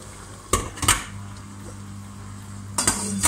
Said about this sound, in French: L'eau de mon vitaliseur commence à bouillir, donc je vais mettre les poireaux